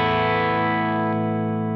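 A sustained electric guitar chord rings through a Fender valve amp, full and warm with a steady loud body that slowly decays, heard close with no talking.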